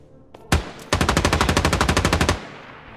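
In the video game Ground Branch, a single loud gunshot is followed by a rapid automatic burst of about fifteen evenly spaced shots, close and sharp.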